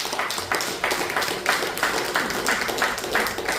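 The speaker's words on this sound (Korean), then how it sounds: "우리 하나님께 감사와 영광의 박수드립니다" Korean church congregation clapping together during a Sunday worship service, a dense, steady wash of many hands filling the room, with periodic swells roughly every third of a second, continuous throughout.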